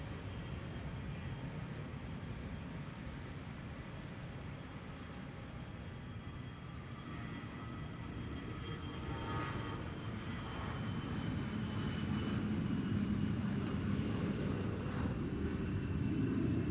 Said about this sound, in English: runway 12 right, clear for takeoff